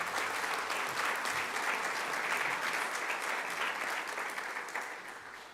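Audience applause fills a Grade 9 prize-giving at Westering High School, a steady, dense clapping from a hall full of people that holds evenly throughout before easing off slightly at the very end.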